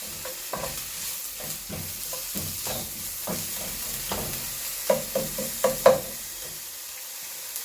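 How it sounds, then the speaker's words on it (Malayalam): Ginger and garlic paste frying in hot oil for a green chicken gravy, a steady close sizzle broken by repeated scraping stirs, with a few sharper crackles toward the end and no talking. "നല്ലോണം ചൂടായിട്ട് ഇഞ്ചി വെളുത്തുള്ളി ഇട്ട് കൊടുത്താൽ കുറച്ച് നേരം ഒന്ന് വാടി വരണം എണ്ണയിൽ കിടന്നിട്ട്"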